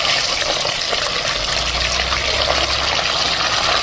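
Freshly cut chicken pieces frying in a pan of hot oil, a loud, continuous hissing sizzle with dense bubbling that holds steady throughout.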